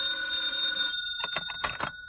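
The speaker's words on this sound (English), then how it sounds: "the phone rang" An old-style telephone bell rings in a radio drama, one long sustained metallic ring that stops, followed by a burst of shorter clattering rings, clear and close.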